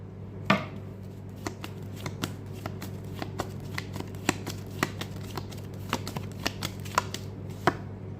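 Tarot cards are handled and laid out, giving a string of crisp, close slaps and flicks at uneven intervals over a low steady hum, with no talk.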